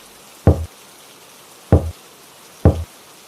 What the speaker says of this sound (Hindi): अमित एक घर के पास जाता है और दरवाजा खटखटाता है